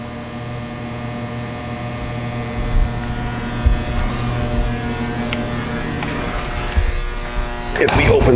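A Timesavers three-head 52-inch wide belt sander with a 50 horsepower first head runs at a slow speed, giving a steady mechanical hum and whine with faint rattles, ending in a brief louder burst of noise.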